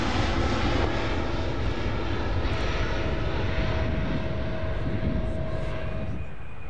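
An airliner takes off at a busy airport, a loud sustained engine roar that holds steady and then eases slightly at the very end, with no talking.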